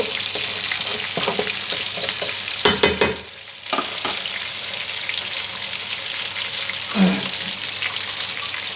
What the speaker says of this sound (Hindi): अभी इससे पहले पानी की आवाज़ आ रही है